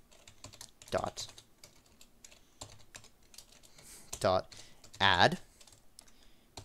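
Typing on a computer keyboard while setting up a character-switching event in a game engine tutorial, with scattered soft key taps and a couple of louder bursts, under a man's speech.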